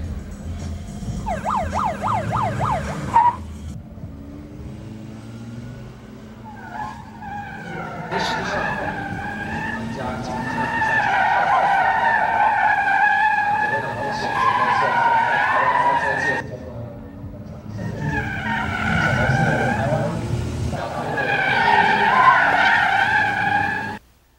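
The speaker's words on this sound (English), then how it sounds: "His opponent in the red car is a veteran racer, Ishihara from Japan." Race cars at a 2005 international gymkhana event in Asia, tires skidding and squealing in long sweeping tones over engine revs, with a commentator talking throughout.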